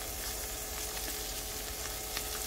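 Garlic sautéing in a hot pan, a steady loud sizzle and crackle of oil running continuously at close range, with no voices.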